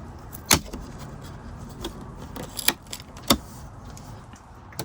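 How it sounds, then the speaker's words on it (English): Interior trim piece being pried off a 2021 Tesla Model Y with a tool dug into a corner, giving several sharp plastic clicks and snaps spread over a few seconds against a quiet, low background hum. "Dig into a corner and just pry it off."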